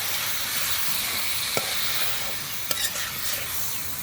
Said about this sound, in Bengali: মুরগির মাংসটা আমি কষাচ্ছি